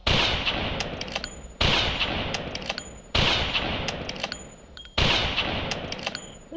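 Four loud gunshots fired at a Tyrannosaurus in the video game Carnivores, evenly spaced about 1.6 seconds apart, each a sharp blast with a long decaying echo and faint metallic clicks between.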